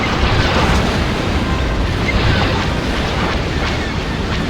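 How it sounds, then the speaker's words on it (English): Loud, dense rumble of laser cannon fire and explosions from an enemy starship in a Star Wars space combat flight game, an assault gunboat training mission, continuous and booming throughout with no speech. "I've got a starship firing at me!"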